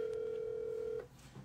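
A telephone line carries a steady, clear dial tone during a live call-in, holding for about a second before cutting off abruptly into faint background noise.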